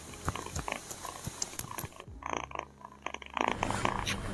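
A cat's purring comes from close up as a soft, rhythmic rumble, with small mouth and rustling sounds around it and brief shifts in tone partway through.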